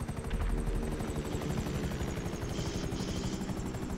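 Helicopter landing in Grand Theft Auto V, a loud, steady rapid rotor chop with a droning engine hum, continuous and close throughout without speech.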